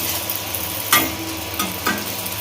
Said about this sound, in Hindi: इधर देखिए मेरा मोमोज फ्राई होके निकल गया है बाहर